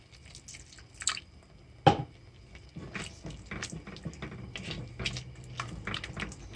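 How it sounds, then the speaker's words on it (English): Water is added to the paste for a vegetarian rogan josh curry in a pan: quiet, close drips and small splashes, with a sharper clink and wet sizzling or bubbling between them. "Let's add more water."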